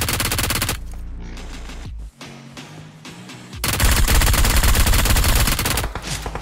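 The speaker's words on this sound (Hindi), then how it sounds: "इसका टीममेट नीचे से गोली चलाता है" Loud, rapid bursts of gunfire in BGMI (PUBG), rattling almost continuously with a short lull in the middle before heavy firing resumes.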